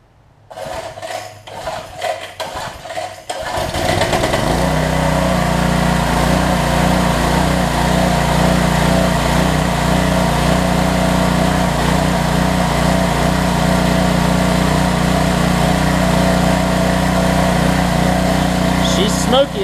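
A smoky Coleman pressure washer engine cranks with a few rough pulls, catches and settles into a loud, steady running drone with a constant hum that carries on to the end.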